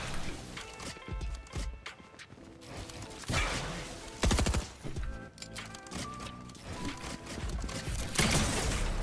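Gunfire in a competitive shooter video game: sharp shots scattered among busy in-game clatter, footsteps and mechanical effects, with a few louder bursts standing out over a steady game soundscape.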